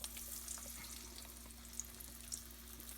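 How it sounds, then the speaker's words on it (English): Steady, quiet crackling sizzle of meatballs frying in very hot oil, continuous with occasional small pops and no talking. "They're sizzling. See, when it sizzles, it's good."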